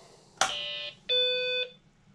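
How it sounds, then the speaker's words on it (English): Two electronic beeps, the first short with a sharp onset, the second longer and steady, ringing clearly over a faint background hum. "Longer beep."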